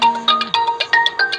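A phone ringtone plays a bright, repeating electronic melody of quick pulsed notes, loud and close, heard alone without talk.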